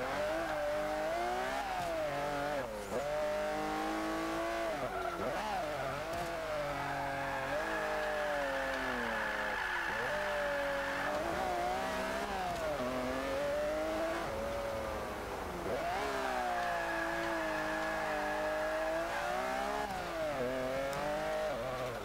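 A 2012 Range Rover Supercharged engine in Forza 5 revs and accelerates loudly and continuously, its supercharged roar climbing and dropping through repeated gear changes, with no talking.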